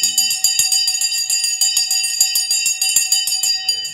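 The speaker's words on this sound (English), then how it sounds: "The bell has gone." A bright electric bell rings continuously with rapid hammer strikes, loud and close, then cuts off near the end.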